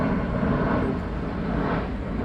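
An airplane passes overhead under a cloudy sky, a steady distant engine drone that holds at moderate volume throughout.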